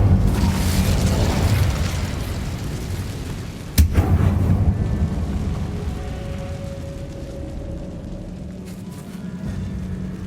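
An Incendio fire spell goes off in the Hogwarts Legacy game, a sharp booming burst midway through a rumbling, roaring stretch of game sound, loud and close before fading to quieter ambience.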